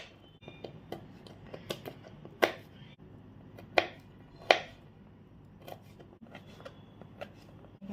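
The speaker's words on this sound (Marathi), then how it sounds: "ड्रायफ्रूट्स घेतले आहेत, ते पण आपण थोडेसे चॉप करून घ्यायचे." Dried fruit being chopped with a knife for a fruit cake, giving scattered sharp clicks and taps, a few stronger knocks among lighter ones, close and without talk.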